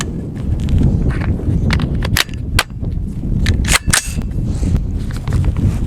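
A Lead Star Grunt rifle fires PMC X-Tac 5.56 NATO 55-grain full metal jacket rounds on a shooting range, several sharp, loud cracks at uneven intervals over a steady background rumble.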